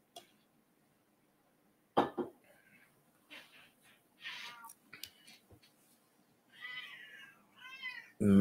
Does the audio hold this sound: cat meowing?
yes